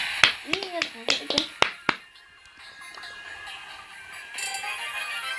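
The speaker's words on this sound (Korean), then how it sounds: "박수 한번 네. 칩시다." A few sharp hand claps in a quick irregular burst during a Brawl Stars gaming session, close and crisp, then fading into quiet background hum.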